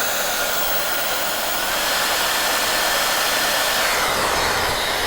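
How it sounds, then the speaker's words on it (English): A lightweight hair dryer runs on its highest speed, giving a loud, steady, unbroken whoosh of blowing air that rises slightly partway through. "even on its highest speed, it's still much more quiet than a lot of other dryers"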